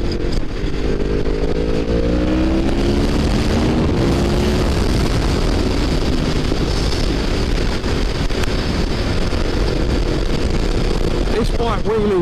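A Yamaha MT-10 motorcycle engine pulls hard while accelerating in fourth gear, a loud continuous roar with rising pitch under heavy wind rush, and a rider's voice talking over it.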